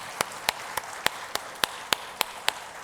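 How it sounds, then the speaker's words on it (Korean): A church congregation at a Sunday daytime service claps in unison, about nine crisp, evenly spaced claps in a steady rhythm, with no talking. "박수로 영광 올려드리겠습니다."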